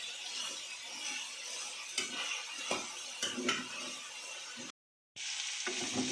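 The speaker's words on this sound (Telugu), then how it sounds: "ఈ విధంగా బాగా వేయించుకోవాలి." Elephant yam pieces stir-fry in a pan with a soft, continuous sizzle, punctuated by several scraping clinks of a spatula against the metal, close-up, with a short silent gap near the end.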